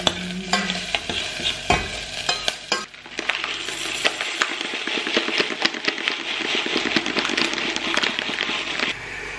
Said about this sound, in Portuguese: coloquei a cebola, o alho e o azeite pra dourar